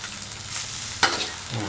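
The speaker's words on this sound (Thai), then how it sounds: "เราต้องคนเพื่อไม่ให้มันจับตัวมากครับ" A pan of starch-thickened seafood gravy for Thai noodles is stirred over high heat, with a soft, steady sizzle and one sharp utensil scrape near the middle.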